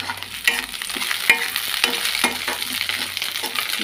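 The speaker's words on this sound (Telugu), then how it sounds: "ఇవన్నీ బాగా వేగాలి. ఇలా బ్రౌన్ కలర్ వచ్చే వరకు వేగాలండి." Curry leaves and green chilli masala fry in a pan, giving a steady close sizzle with occasional sharp pops and stirring scrapes, heard alone without talk.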